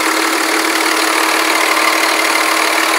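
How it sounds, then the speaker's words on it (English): Diesel 5.9L Cummins engine in a 2004 Dodge Ram 2500 SLT 4x4 with a cold air intake, idling with a steady, dense rattling clatter, close and continuous with no talking. "Pretty darn clean motor, sounds nice."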